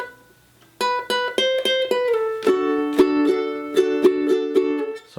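Ukulele picking a riff, bright plucked notes in a steady rhythm with a sliding chord change, close and clear with no talking.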